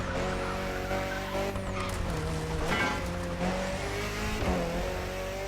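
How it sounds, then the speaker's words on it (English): Car engine and exhaust in The Crew Motorfest racing game: a steady droning engine with shifting revs and tire squeal, moderately loud with no talk. "We have a sound specific for the engine and a sound for the exhaust with a proper spatialization."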